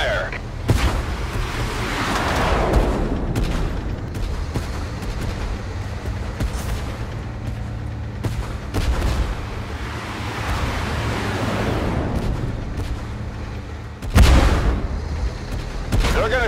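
Tank cannon fire in the video game Tank Force booms out in heavy blasts, one near the start and a sharp loud one near the end, over a constant roaring wind-like rumble, with a voice speaking at times.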